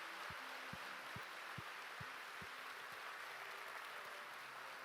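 A church congregation claps during a sermon, producing a faint, steady wash of distant applause that runs evenly from start to finish.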